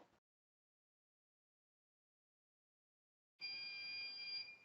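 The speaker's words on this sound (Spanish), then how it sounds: "ya está pitando. Nos informa de que ha reconocido un disco duro nuevo" A QNAP NAS server gives a thin, steady electronic beep on recognising a newly inserted hard drive, faint and sustained after a long quiet gap.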